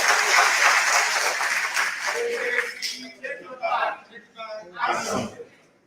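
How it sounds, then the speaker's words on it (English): A crowd at a political gathering in Kano State, Nigeria gives a round of applause that fades after a few seconds into scattered claps, murmurs and voices. "Please, a round of applause for him."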